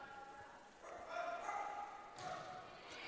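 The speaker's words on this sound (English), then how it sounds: "Still got some barking going on over there." A dog barks a few times at a distance during a high school varsity volleyball match in a gym, faint woofs under the ambient noise of the venue.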